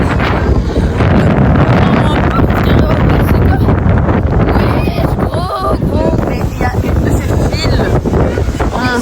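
Strong wind buffets the microphone outdoors on a trip in London, a constant loud rumbling roar through the whole stretch, with faint voices underneath.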